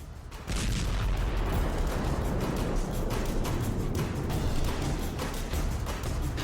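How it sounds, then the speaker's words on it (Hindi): A massive explosive blast on the bridge linking to Crimea erupts after a brief quiet moment, followed by sustained loud rumbling and crackling debris noise that fills the rest of the clip. "क्राइमिया से जोड़ने वाले पुल पर बहुत बड़ा धमाका होता है"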